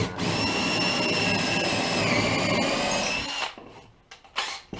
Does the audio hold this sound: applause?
no